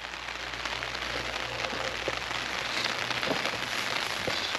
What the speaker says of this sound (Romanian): Avem parte de ploaie.